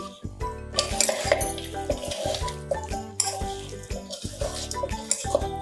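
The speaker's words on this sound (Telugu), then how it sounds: "ఇప్పుడు దీన్ని బాగా మిక్స్ చేసుకుని" Chili powder is stirred into an Andhra-style gongura mutton curry, with a spoon clattering and scraping repeatedly against the pot over a steady tonal background.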